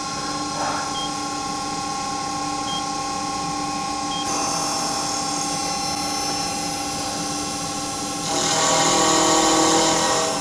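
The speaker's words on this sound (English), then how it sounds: "And now we'll run the cutter through." A CNC mill run in manual mode drives a 12mm cutter through a foundry moulding box, giving a steady high whine with tonal bands that shifts pitch midway and swells louder near the end, close and continuous with no talk.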